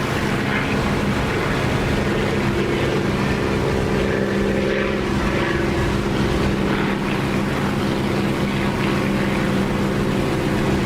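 A propeller aircraft engine in the DCS flight simulator game drones loudly and steadily throughout, a constant buzzing hum with no pauses.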